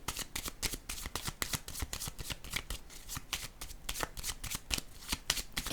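A deck of playing cards is riffle-shuffled over and over, making a steady, close, rapid flutter of card edges with sharp slaps between passes and no voices.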